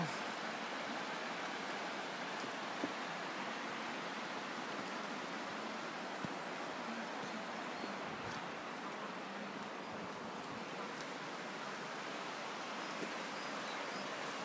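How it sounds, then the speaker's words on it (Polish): A constant rushing roar of a nearby mountain stream at an outdoor camp kitchen continues evenly throughout with no talking. "słychać szum potoku"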